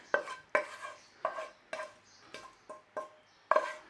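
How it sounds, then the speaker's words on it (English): A spoon stirs chopped leek through a Glamorgan sausage mixture in a bowl, giving about eight sharp scraping knocks at an uneven rhythm, close and fairly quiet with no talk. "we're going to give that a stir through"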